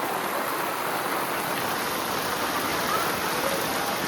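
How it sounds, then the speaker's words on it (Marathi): Heavy monsoon rain pours down in a dense, unbroken hiss, steady and close throughout, amid flooding. "खतरनाक पाऊस आहे आजचा."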